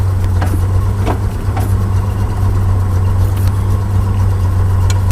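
A Datsun 240Z in heavy traffic, its engine a steady low drone heard from inside the car, loud and constant, with faint clicks and rattles above it and no talking.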